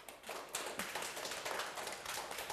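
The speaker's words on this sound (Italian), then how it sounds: "Benvenuti ragazzi, fatevi un applauso." Young children in a TV studio applaud, a steady, fairly faint patter of many small hands clapping continuously with no voices over it.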